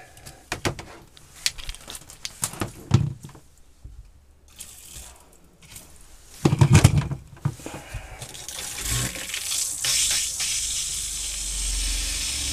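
Water starts flowing from an RV faucet fitted with a water-saver head after some clunks and handling noises, settling into a steady rushing hiss that continues to the end.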